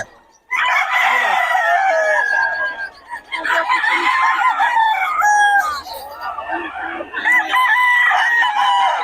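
Gamefowl stags crow one after another, loud and close, with repeated cock-a-doodle calls and some clucking, and a faint voice murmuring underneath.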